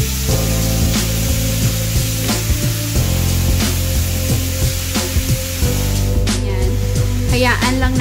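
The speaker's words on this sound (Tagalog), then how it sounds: "hayaan lang natin siyang maprito muna" Soaked potatoes frying in a large wok for pork caldereta, a steady loud sizzle with occasional scraping stirs, and a brief clatter near the end.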